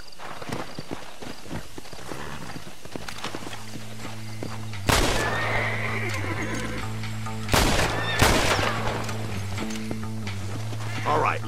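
Horses whinny and hooves clip-clop amid Red Dead Redemption game sound effects, with a couple of sharp bangs and a low sustained musical drone underneath.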